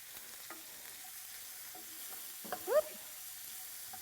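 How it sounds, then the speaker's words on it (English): Onions fry quietly in a pan while a utensil stirs them, giving a few soft scrapes and clinks over a low, steady sizzle. "Let me stir my onions."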